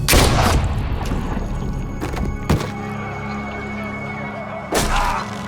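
Gunshots ring out in The Walking Dead: A New Frontier video game, a few loud, sharp blasts spaced apart: one at the start, a pair in the middle and one near the end, over a steady rumbling background.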